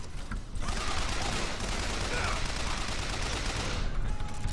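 Dense, rapid gunfire from the video game Bioshock Infinite erupts after a brief quieter lead-in and holds loud and continuous for about three seconds before easing.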